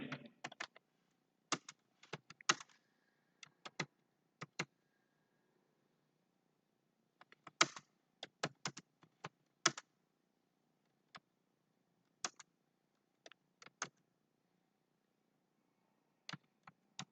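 Irregular taps on a computer keyboard enter MATLAB matrix commands, coming in short clusters and single keystrokes with quiet pauses between them, close and fairly soft.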